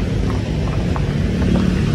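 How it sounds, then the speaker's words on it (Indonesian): An express (patas) bus on the Madura to Jakarta route rolls in with a heavy, steady low engine rumble, close and continuous, with no voices heard. "ini bis yang kita tunggu ini"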